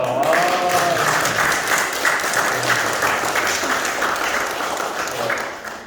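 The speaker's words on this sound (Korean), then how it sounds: "우리 각자 박수 한번 주세요." At a logistics centre opening ceremony, an audience applauds in a dense, sustained round of clapping that starts loud and slowly fades, with a voice speaking over it at the start.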